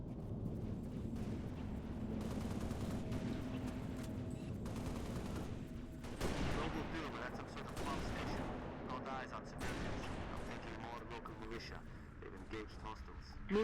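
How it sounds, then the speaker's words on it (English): Rapid bursts of gunfire in Halo: Reach crackle continuously, magnums and security sidearms, with heavier booms and sharp transients rising midway, mixed with voices and a dense background din. "Gunfire. Magnums. Security sidearms."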